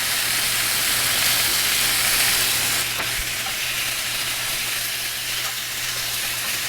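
Beef sizzles and fries steadily on a hot griddle outdoors, a loud continuous hiss with faint scraping and a brief clack near the middle, no talking.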